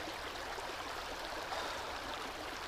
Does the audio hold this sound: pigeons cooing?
no